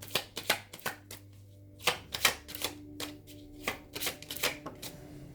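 Tarot cards being shuffled and drawn by hand, a series of sharp riffling and flicking bursts at an uneven pace, close and quiet over a faint steady hum, no talk.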